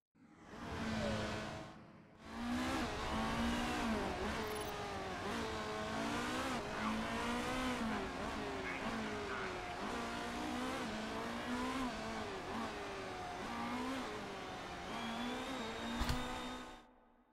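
Race cars on a qualifying lap in the Motorsport Manager racing game, their engines droning and whining steadily with rising and falling pitch, close and loud for most of the lap after a brief dip near the start.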